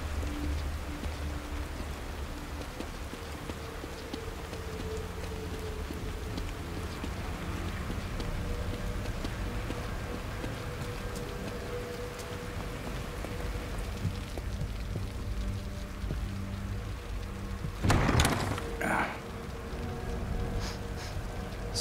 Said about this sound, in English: Rain is gonna wash away any evidence.